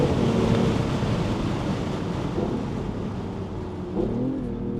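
A tuned 410 hp BMW i8 Roadster accelerates hard with its enhanced exhaust sound, a loud, continuous engine roar mixed with wind and road rumble and a short rise in pitch near the end.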